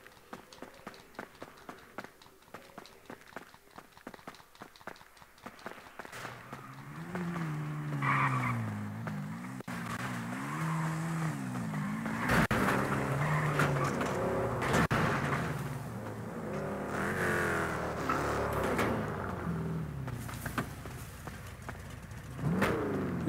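A car in GTA V, its engine droning and rising in pitch over tyre noise and scraping. It starts quiet and grows into a loud, sustained roar, with a voice speaking briefly.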